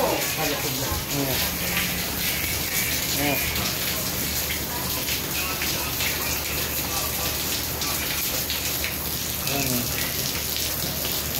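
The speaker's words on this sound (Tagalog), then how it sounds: "Lakas ng ulan eh, kaya tumulong kusina eh." Steady, dense rain pouring down with a constant hiss and patter, heard close, with a voice speaking briefly near the start.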